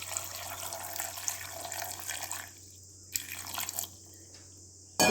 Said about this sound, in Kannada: ಈಗ ಇದಕ್ಕೆ ನೀರು ಹಾಕಿಕೊಳ್ತಾ ಇದ್ದೇನೆ.